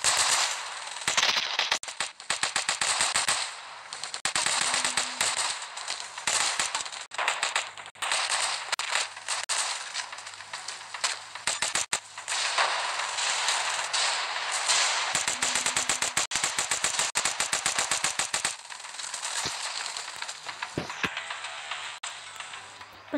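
Rapid automatic gunfire from the Earth Protect Squad video game, a humans-versus-aliens shooter, crackling in dense, near-continuous bursts with brief gaps, loud and close throughout.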